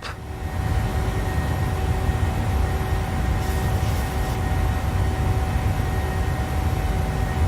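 A PMDG Boeing 737 airliner in Microsoft Flight Simulator accelerating after takeoff on a Switzerland training flight, a loud, steady engine roar with a constant whine, unbroken throughout.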